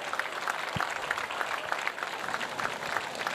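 Steady audience applause at a Telethon 2015 home auction, a continuous wash of clapping from a crowd at moderate distance.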